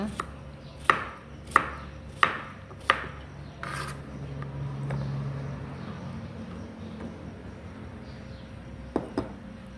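A knife slices vegetables sharply on a cutting board, five quick evenly spaced strikes, then a pause with faint rustling before one more pair of cuts near the end.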